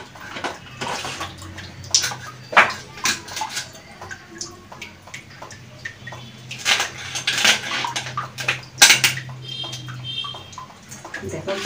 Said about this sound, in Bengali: আমি মাছটা ভালো করে ধুয়ে নেব।